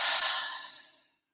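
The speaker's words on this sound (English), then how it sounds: "Take a breath in." A single deep breath drawn in slowly during a calming grounding exercise, an airy, close rush of air that fades out into silence.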